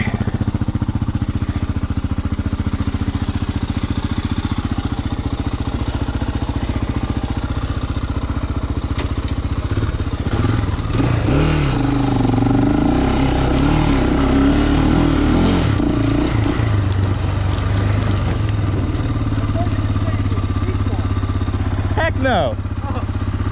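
A 400cc motorcycle engine straining as it climbs over a hump off-road, loud and close with a droning, fluctuating rev that rises and falls, while people talk over it.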